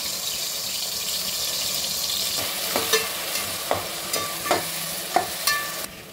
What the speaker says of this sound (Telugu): ఇప్పుడు మనం ఆనియన్స్, పచ్చిమిర్చి పేస్ట్ వేస్తున్నాం